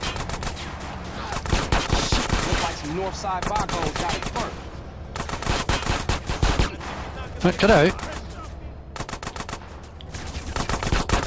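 Rapid automatic gunfire in GTA San Andreas, bursts of machine-gun shots with pauses between volleys, loud and near, with a character's voice talking in between.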